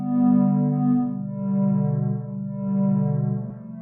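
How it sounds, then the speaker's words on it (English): A slightly distorted sine wave synth plays a simple four-chord progression, sustained tones shifting smoothly from chord to chord, steady and alone with no voices. "It's a simple 4-chord progression with a slightly distorted sine wave."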